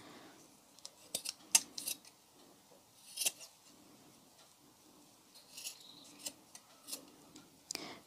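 Scissors snip through craft material for a spring and Easter decoration, a few faint, sharp, close cuts spaced irregularly across a quiet background.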